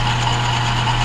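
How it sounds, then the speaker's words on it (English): Small Atlas lathe machining down a steel pin for a 420 backhoe, giving a steady loud motor drone with a constant low hum and a band of cutting noise, unbroken for the short span. "I wanted to make a little short about my little Atlas lathe"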